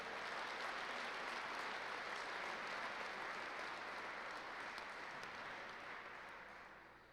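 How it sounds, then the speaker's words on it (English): Audience at a retirement ceremony applauding, a sustained, even wash of clapping that holds steady for several seconds then tapers off toward the end, moderately distant. "let's give a little round of applause for the performance we've seen tonight"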